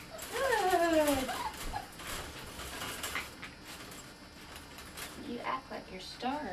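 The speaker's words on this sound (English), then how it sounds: "before he goes off on his crying spree" A small puppy whimpers and cries in high, wavering whines, with a person talking softly in the background.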